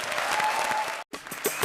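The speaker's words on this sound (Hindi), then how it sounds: "जोरदार तालियां।" Loud audience applause greets the first contestant of a show season, a brief burst of dense clapping broken by a short cut before resuming.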